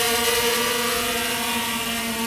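A Tali H500 drone climbs to altitude after a one-key start, its rotors giving off a steady, tonal buzzing whine that holds even and unbroken throughout.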